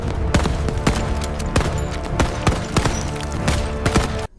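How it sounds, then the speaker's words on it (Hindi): Sharp bursts of gunfire from German soldiers shooting down from a hillside ring out loud and close in an uneven, rapid string of cracks. The volley runs on for about four seconds, then cuts off abruptly. "जर्मन सोल्जर्स ने ऊपर से गोलियां चलाई,"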